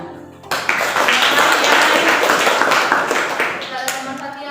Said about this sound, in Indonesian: Luar biasa, kita tepuk tangan.